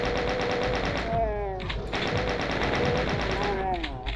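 Rapid, rattling automatic fire from chaingunner demons in Doom II rings out almost continuously, loud and dense, layered with other game effects and a player's voice talking over the action.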